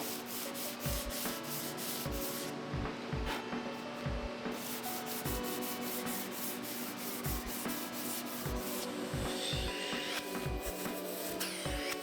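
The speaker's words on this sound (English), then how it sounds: "After it dries, the edge sander cleans up the back." Edge sander working the back of a walnut workpiece, a loud continuous abrasive whir with repeated rhythmic scraping passes as the wood is pushed along the belt, no voices.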